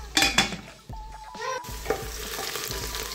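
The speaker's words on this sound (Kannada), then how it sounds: "ಇವಾಗ ಆನಿಯನ್ ಸ್ವಲ್ಪ ಫ್ರೈ ಆಗಿದೆ" Sliced onion frying in a pan for mushroom biryani, a steady sizzle with the clatter of a spoon stirring against the pan, fairly close and moderate in volume.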